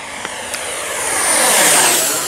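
A twin 64mm EDF model F-15 Eagle jet at full throttle makes a high, whining ducted-fan roar that swells as it passes close, then fades slightly.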